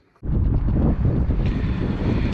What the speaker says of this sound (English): we're out here on kind of a windy day